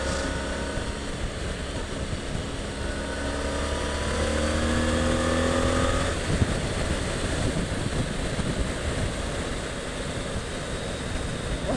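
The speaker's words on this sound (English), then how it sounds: "I wonder if it is making a bit of a difference to the noise, the wind noise." Wind noise roars past a moving car on a commute, a steady broadband rush with low rumble and tonal whine that shifts midway, heard continuously from inside the cabin with no talking.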